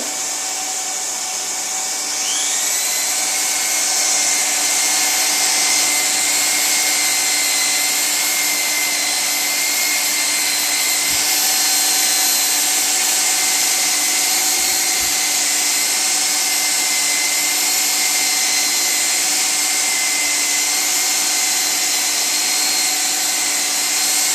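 A hot air welding gun blows a loud, steady, high-pitched whine while welding the seam of a split boot, with a rising tone at the start and no talking throughout.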